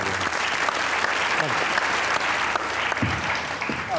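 Sustained applause from an audience at a political gathering, a dense continuous patter of many hands filling the whole stretch with faint voices mixed in beneath.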